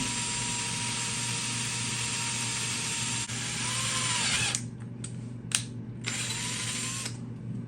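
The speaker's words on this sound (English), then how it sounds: "I'm going to drill this hole out for you guys now." A power drill bores a hole through a TiPX paintball marker receiver body, whirring loudly and steadily, then stopping and restarting in short bursts with brief clicks near the end.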